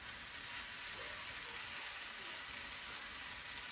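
Fish sisig made with mackerel and half a lemon is stirred in a hot pan, producing a constant, fairly faint, even frying sizzle with no distinct strokes or voices.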